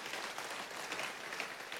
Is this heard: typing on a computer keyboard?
no